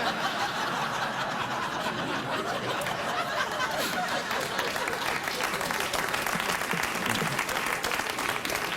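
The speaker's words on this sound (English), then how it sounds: "I have no idea why they would applaud that." Steady studio audience applause on a late-night talk show fills the whole stretch, dense and continuous with a few scattered chuckles and murmurs mixed in.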